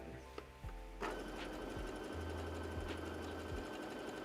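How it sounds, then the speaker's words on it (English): A sewing machine stitching fabric starts up and runs in a steady, quiet mechanical whir, its needle clattering evenly with no talking. "we are gonna sew 2 more lines and 3 more lines"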